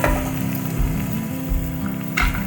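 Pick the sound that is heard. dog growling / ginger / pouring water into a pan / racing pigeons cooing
ginger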